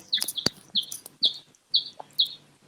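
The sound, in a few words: bird chirping in the background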